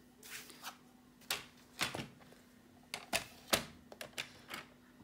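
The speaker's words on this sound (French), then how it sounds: "Pour ça, on va prendre le massicot." Paper trimmer (massicot) slicing through card for a pull-tab surprise card: a series of sharp, dry clacks and snaps, about a dozen irregular strikes close by, with faint rustling between and no talk.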